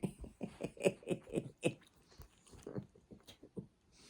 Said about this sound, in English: As your dogs do this in the morning.